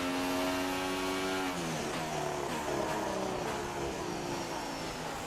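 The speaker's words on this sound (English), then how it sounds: "Oh, that engine sounds a little rough." A Formula One car engine in the racing game F1 2016 sounds rough, a harmonic-rich buzzing whine that holds steady, then drops in pitch as the car slows, loud and continuous with no talk.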